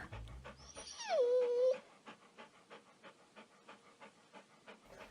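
A dog pants steadily in rapid rhythmic breaths close to the microphone, after a brief high whine at the start.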